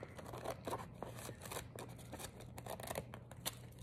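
Scissors snip repeatedly through paper while trimming a pressed-flower craft piece coated in varnish, quiet close-up cuts in a steady irregular series over a low background hum.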